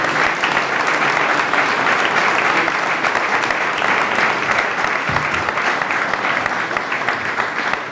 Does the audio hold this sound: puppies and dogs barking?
no